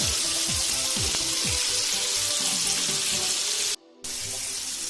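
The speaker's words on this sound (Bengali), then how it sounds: "টমেটোটাকে আমি একটু ভালো করে ভেজে নেব" Steady, loud sizzling of tomatoes frying in a pan, with occasional scraping strokes and a brief dropout near the end. No one speaks.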